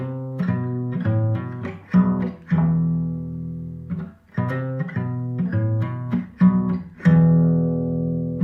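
Electric-sounding guitar riff from a song, played slowly as a lesson demonstration: repeated plucked notes and sustained low strings in a steady pattern, close and clear with no talking.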